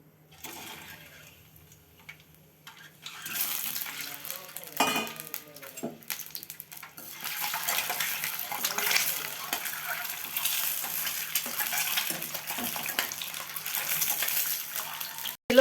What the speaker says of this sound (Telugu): ఆనియన్స్ ఫ్రై చేసుకున్న ఆయిల్లోనే మనం ఎగ్ బిర్యానీ కోసం తీసుకున్న బాయిల్డ్ ఎగ్స్ని ఫ్రై చేసుకోవాలి